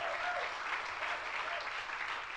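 A church congregation at a worship service bursts into dense, continuous applause, a steady wash of many hands clapping at once, fairly close and even throughout with no voices on top.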